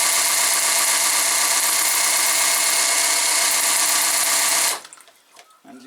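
A Ford 1.8 diesel engine revs hard with the throttle held open, making a loud, steady roar that cuts off abruptly near the end and leaves quiet clatter.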